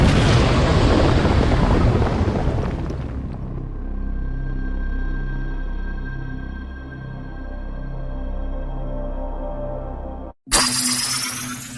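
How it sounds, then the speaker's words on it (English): A loud, crashing burst opens the clip and lasts about three seconds. It gives way to a sustained, pulsing tonal drone, cuts to brief silence, then returns with a sharp burst near the end. "There was supposed to be an earth-shattering kaboom."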